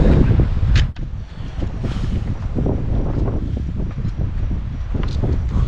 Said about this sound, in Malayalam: നമ്മളിങ്ങനെ വിറക്കും അതുപോലത്തെ കാറ്റാണ്